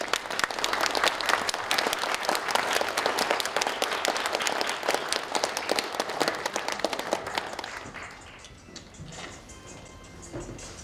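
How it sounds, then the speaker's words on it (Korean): An audience claps together at a Korean foundation's book presentation on political economy. The applause is loud and dense for about eight seconds, then thins and fades into the quiet room. "여러분 박수로 좀"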